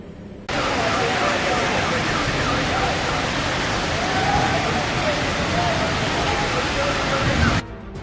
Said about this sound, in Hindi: राजधानी जयपुर में भी काफी मूसलाधार बारिश हुई है